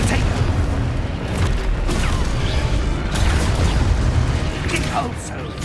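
Confringo spell explosions in Hogwarts Legacy rumble and boom in a dense, loud, continuous barrage, with crackling blasts layered over a heavy low roar.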